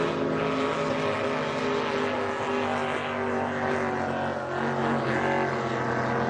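Pro stock racing boat engine at a Syracuse hydroplane heat, a loud continuous droning roar with steady harmonic tones that dip slightly as the driver eases off the throttle, heard alone without speech.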